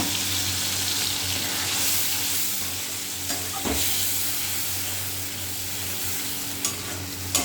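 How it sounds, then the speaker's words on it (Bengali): Ground spice paste with dried red chilli paste frying in a hot pan, a steady close sizzle and hiss with faint stirring scrapes throughout, no voices. "এবার পেস্ট করা মশলাটা দিয়ে দেবো। এর মধ্যে একবারই শুকনো লঙ্কাটাও পেস্ট করে নিয়েছি, এবার এটা দিয়ে দেবো।"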